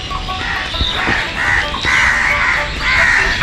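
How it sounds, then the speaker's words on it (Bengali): Crows cawing loudly and repeatedly at a bird sanctuary in Rangpur, several overlapping harsh calls close by over a steady outdoor background. "এই জায়গায় মূলত বিভিন্ন প্রকারের পাখি আপনারা দেখতে পাবেন এটা হচ্ছে পাখিদের একটা অভয়াশ্রয়"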